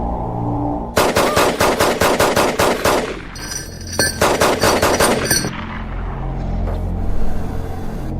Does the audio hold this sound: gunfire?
yes